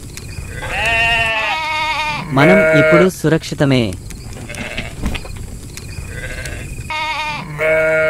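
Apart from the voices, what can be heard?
lambs bleating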